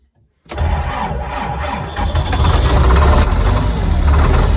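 A tractor's diesel engine cranks with glow plugs preheated and fires almost at once, then settles into a loud, clattering, knocking idle up close.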